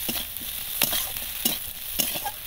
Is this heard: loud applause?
no